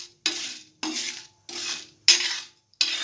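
Black urad dal and dried red chillies roasting in a pan produce five evenly spaced rattling stirs of dry grains against metal, close and crisp, with quiet gaps between strokes.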